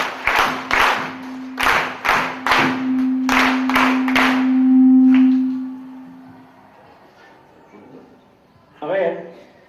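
A gathered audience at a dining-hall opening claps together in a series of sharp, loud synchronized bursts, with a sustained hum-like tone underneath, fading to quiet before a brief later sound.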